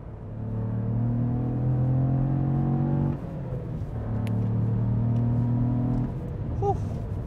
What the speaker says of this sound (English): listen to that. You can downshift like that.